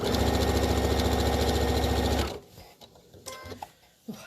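Sewing machine running a tiny hem along a tote bag, a loud, fast, even rattle for about two seconds that stops abruptly, followed by quiet handling clicks and taps.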